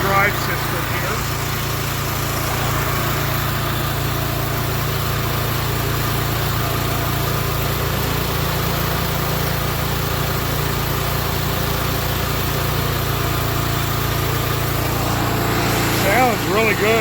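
A Toro Timemaster lawn mower engine, bought cheap and fitted with a key-start conversion, runs at a steady loud idle, a continuous close mechanical drone that holds even throughout, with a voice speaking briefly over it.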